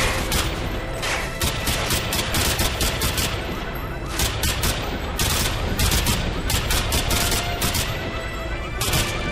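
Dense, loud gunfire in Modern Warfare spec ops, bursts of automatic rifle fire and overlapping shots rattling continuously, with speech faintly audible at times.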